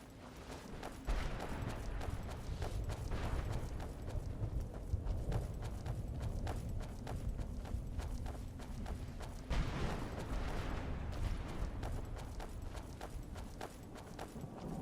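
A horse's hooves clip-clop steadily in the video game Skyrim, a continuous close rhythmic trot over a low rumble, with no talking.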